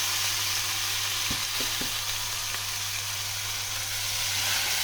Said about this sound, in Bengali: এবার আমি এর মধ্যে দিয়ে দেবো কেটে রাখা তেলাকুচু শাক।